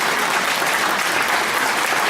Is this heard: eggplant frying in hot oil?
no